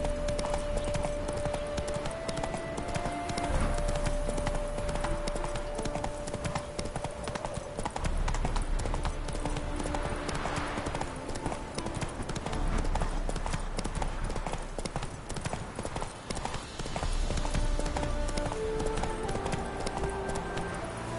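Horse hooves trot in a steady clip-clop rhythm from a PS4 video game, holding up loud and continuous under game music and ambience for the whole stretch.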